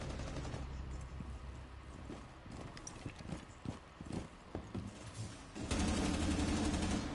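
Bursts of MP7 submachine gun fire ring out in a shooter video game, with sharp rapid cracks clustered in the middle over a steady background bed, then a louder continuous wash near the end.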